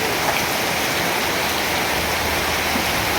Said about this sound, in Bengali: প্রচুর বৃষ্টি হচ্ছে এই মুহূর্তে